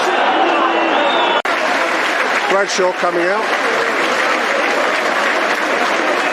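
Football crowd applauding at a Millwall versus Crystal Palace FA Cup match, a steady roar of clapping and cheering from the stands, with a commentator talking over it and a brief sharp click.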